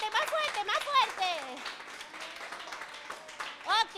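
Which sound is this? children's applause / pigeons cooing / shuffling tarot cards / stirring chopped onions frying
children's applause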